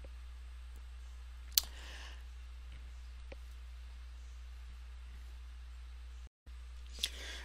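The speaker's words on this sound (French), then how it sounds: "On peut donc cliquer sur page suivante." A computer mouse clicks a next-page button in genealogy software, one sharp close click standing alone over steady low hum, then a fainter click a few seconds later.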